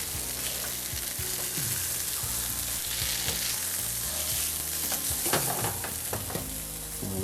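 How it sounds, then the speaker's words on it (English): Salmon fillet with a dry rub of cayenne, salt and garlic sizzles steadily in a hot pan, the frying continuous and close, with scraping and shifting noises as the fish is flipped over. "Let's get our salmon flipped over."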